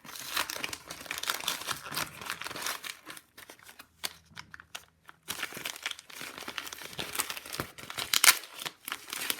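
Paper crumpling and crinkling as it is unwrapped from a package holding a used iPhone, close and fairly loud in bursts, with a short quieter pause near the middle.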